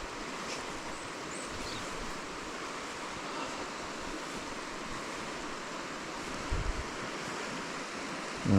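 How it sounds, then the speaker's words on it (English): A tiny stream trickling and running beneath a spot outdoors, a steady broadband wash of flowing water with some wind noise, continuous and fairly close, with a brief bump of handling near the end. "Tiny little bit of a stream running under here"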